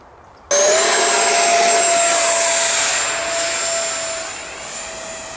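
An Arrows Hobby BAE Hawk electric ducted-fan model jet spools up abruptly to a loud steady whine during its hand launch, a rising tone holding near, then slowly easing as the jet pulls away.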